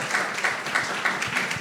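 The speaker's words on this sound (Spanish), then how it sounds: "Vamos a darle un fuerte aplauso para que se sienta" An audience applauds to welcome a guest at a "Memorias Vivas" event, producing a short burst of steady, moderately loud clapping with no talk over it.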